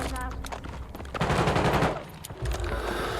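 Rapid machine gun fire in the video game Call of Duty sounds as loud bursts of dense shots, with brief gaps between them and a voice talking over parts of it.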